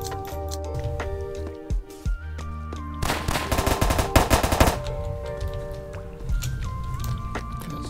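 Automatic rifle fire in the Roblox game Apocalypse Rising 2: a loud, rapid burst of shots in the middle of the clip, set against steady synthetic game music and tones.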